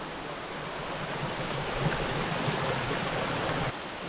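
A river flows beside an outdoor restaurant in Malaysia, a steady, faint rushing wash of water that is continuous and even throughout, with no voices.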